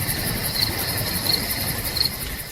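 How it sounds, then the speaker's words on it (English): Crickets chirp at night in a quiet outdoor setting, a steady high insect trill with regular pulsing accents over a faint breeze, close and continuous, with no voices. "Listen, just crickets and the breeze."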